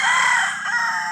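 A gamecock rooster, a fighting cock that is not a hybrid, crows one long, loud, close cock-a-doodle-doo on its own.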